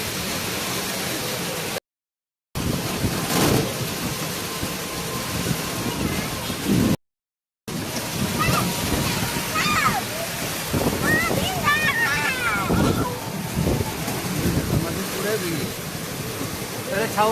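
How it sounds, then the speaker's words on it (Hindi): Heavy rain pours down in Bhagalpur, a dense, steady hiss and splatter that fills the whole scene, broken by two short dropouts, while people talk over it. "देख सकते हैं कितना सारा बारिश हो रहा है।"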